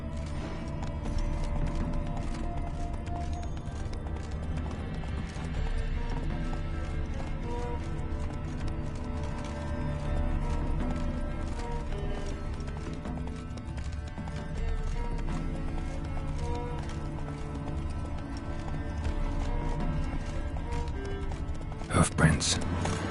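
Roach, a horse in The Witcher 3 video game, clip-clops along at a steady galloping rhythm throughout, layered over constant game ambience and music, with a brief sharper burst near the end.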